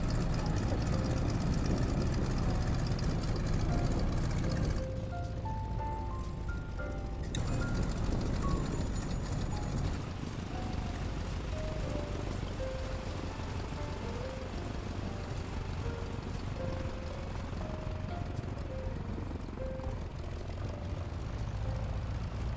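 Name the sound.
Stearman biplane radial engine in a flight simulator video game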